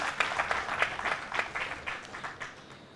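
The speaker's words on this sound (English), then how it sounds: "So let's welcome him with a big round of applause." Short burst of audience applause at a conference session, a moderate crowd clapping in an uneven patter that thins out after a couple of seconds.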